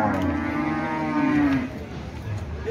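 Cattle at a cattle market in Karang Gede, one loud, close, drawn-out moo lasting over a second and a half, then fading into the background murmur of the market.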